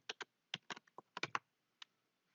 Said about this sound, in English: I'm just going to type in here segment groups.